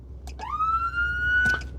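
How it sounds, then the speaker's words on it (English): Siren on a rescue truck switched on, a short blip followed by a rising wail that climbs and holds a steady pitch, close and clear, ending with a click. "You just press it and it'll turn the siren on to that mode."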